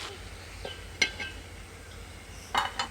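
A lid goes onto a cooking pot with two short metallic clinks, one early and one near the end, close by and fairly faint against a quiet kitchen background, with no talking.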